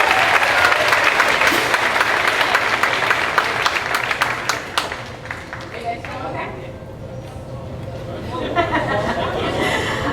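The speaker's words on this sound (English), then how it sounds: "let's have a round of applause for Joe." A concert audience at a high school winter concert applauds a band soloist, with dense, loud clapping that gradually thins over about ten seconds, mixed with crowd chatter and voices.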